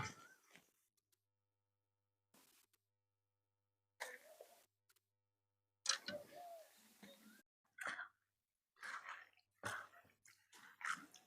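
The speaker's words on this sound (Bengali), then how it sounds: "অল্প অল্প করে জলের মধ্যে দেবো আর ধুয়ে নেবো" Colorful cabbage being rinsed a little at a time in a bowl of water, with a series of short, separate splashing and sloshing bursts, broken by quiet gaps, growing busier toward the end.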